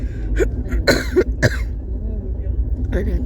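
A person coughs a few times in short, harsh bursts, close by, inside an air-conditioned train carriage on an express train, over a steady low rumble of the moving train.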